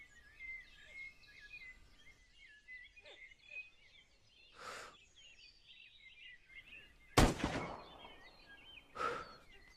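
A sniper rifle shot in the open-world survival prison game SCUM: one sharp, loud crack with a brief fading tail, set against outdoor ambience of birdsong and faint breathy whooshes.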